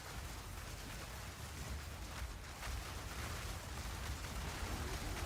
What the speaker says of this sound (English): it's raining comets, which means that we're triggering them pretty nicely.